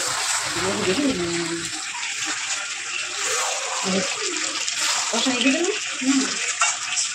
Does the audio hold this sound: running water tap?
yes